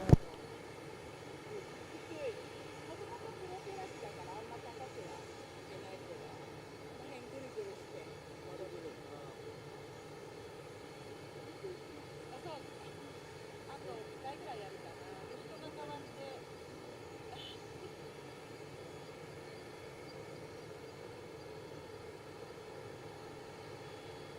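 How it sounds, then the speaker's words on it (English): An aircraft at Nagasaki Airport rumbles and drones steadily in the distance, faint and continuous, with quiet voices talking underneath at times. "we're just discussing what the heck that aircraft is doing out there"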